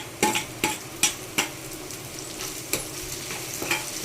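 Tomato goes into golden fried onions in a pan for masala dosa bites: a steady sizzle broken by several sharp spatula knocks against the pan, loud and close, no voices.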